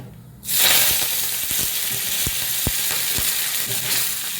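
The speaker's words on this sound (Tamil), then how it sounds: "கடுகு, உளுத்தம் பருப்பு, கருவேப்பிலை, காஞ்ச மிளகாய் எல்லாம் போட்டிருக்கேன்." Mustard seeds, urad dal, curry leaves and dried red chillies hit hot oil for a chutney tempering, bursting into a loud, steady sizzle after a brief quiet start, with scattered sharp pops and crackles throughout.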